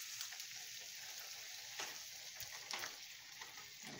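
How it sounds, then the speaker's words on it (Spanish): Salt cod sizzles and fries steadily in a pan as a little water is added, a bright continuous hiss with small crackling bursts and no voices. "Añadimos un poquito de agua."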